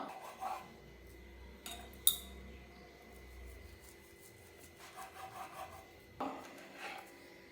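A knife cutting potatoes into nugget-sized pieces on a board, heard as quiet, scattered rasping cuts and taps with a sharper knock now and then, no talking.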